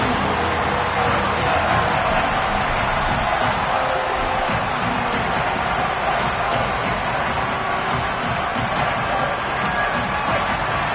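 A stadium crowd roars steadily throughout a College Football 27 game, Alabama at Mississippi State. The broadband noise is dense and continuous, with no break or clear peak.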